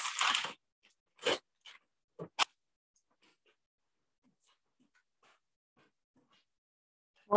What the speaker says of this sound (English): Pardon the sound of ripping paper.